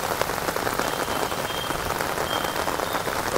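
Heavy rain pours steadily in Surat on a cool early morning beside a large banyan tree and a temple, a dense, continuous close hiss of drops striking surfaces with no letup.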